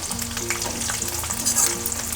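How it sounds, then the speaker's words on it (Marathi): Potatoes fry in a pan for sabudana khichdi, a close, loud continuous sizzle with light stirring scrapes and no talking. "बटाटे बघा चांगले आपले फ्राय झालेत, तांबूस चांगला त्याला कलर आला आहे"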